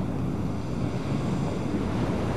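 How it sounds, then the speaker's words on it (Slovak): Surf rolling onto a clifftop coastline, heard from inside a large-windowed cable car carriage climbing above houses, a steady broad wash of breaking waves mixed with wind noise, continuous and fairly loud with no speech. "Á, pozrite, tam je more."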